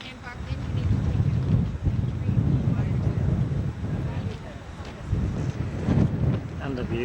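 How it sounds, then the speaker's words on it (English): Strong wind buffeting the microphone on a hilltop lookout in New Zealand, a steady low rumbling roar throughout with gusty swells, with people talking faintly beneath it. "Very windy up here."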